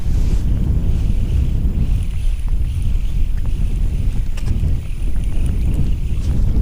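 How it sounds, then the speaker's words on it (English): Strong outdoor wind during a fishing trip rumbles steadily against the microphone, a loud, low, continuous buffeting with no voices. "it is windy as heck"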